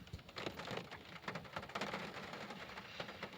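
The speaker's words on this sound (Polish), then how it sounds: "Pada." Faint, steady patter of rain falling on a surface, a soft continuous hiss with scattered drops and no voices.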